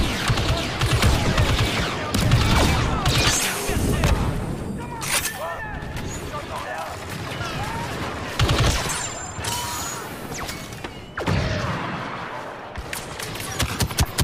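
Busy Star Wars Battlefront 2 firefight at Starkiller Base, with repeated bursts of blaster and gunfire and heavy booms stacked over a constant roar of battle noise, and voices mixed into the chaos.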